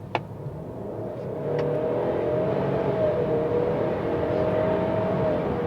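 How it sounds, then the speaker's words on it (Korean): A 2.3-litre EcoBoost four-cylinder in a new Ford Explorer SUV accelerates hard on a road drive, its steady engine drone and rising whine filling the cabin with no talk over it. "엔진 소리도 지금 확실히 6기통의 그런 중후한 느낌은 없고 4기통의 좋게 얘기하면 이제 경쾌한 느낌이 나고 있습니다 한번 빠르게 가속해 보겠습니다"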